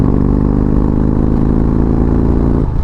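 A 2026 Indian Springfield Dark Horse motorcycle rolls on in fifth gear in sport mode up to 75, its exhaust a loud, steady, deep engine drone that holds close and constant throughout.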